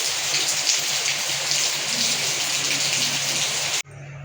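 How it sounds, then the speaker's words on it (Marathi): Heavy rain pours down steadily, a dense broad hiss that suddenly cuts off near the end, leaving a quieter patter. "सकाळी सकाळी इतका पाऊस सुरू आहे"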